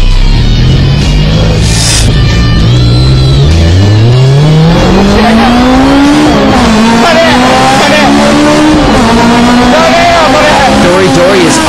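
Honda S2000 sports cars in a three-car touge battle roar past loudly, engines revving with rising pitch through gear changes and tires squealing, a continuous racing din with speech over it.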